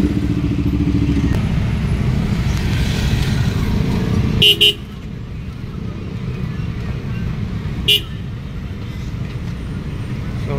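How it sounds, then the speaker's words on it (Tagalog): Busy road traffic at a crossing in the Philippines, with running car and motorcycle engines rumbling nearby, then short sharp horn toots cutting through. The engine noise thins after the first horn blast. "Traffic nga sa pagtawid doon."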